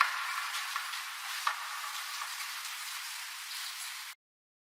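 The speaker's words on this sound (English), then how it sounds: "almost sounds like a factory, as if like it's night and rain is falling down inside a factory" Dark rain atmosphere sample for a music track, a dense, faint wash of falling rain evoking night inside a factory, with a few soft clicks and a low end cut away, steady for about four seconds before stopping abruptly.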